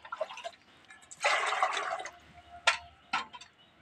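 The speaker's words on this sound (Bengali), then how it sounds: "এবার নিম পাতা আর এই বেগুনটাকে আমি জলে ভালো করে ধুয়ে নেব।" Water splashing while neem leaves and eggplant are washed by hand, close and moderately quiet, with a longer pour or splash in the middle and a few short sloshes and drips around it.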